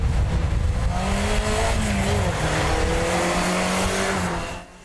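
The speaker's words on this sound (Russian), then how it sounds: "В Айхале прошли автомобильные гонки на льду." Race cars in an ice racing event at Aikhal roar loudly with continuous engine noise and revving as they speed across the ice, before the sound fades at the end.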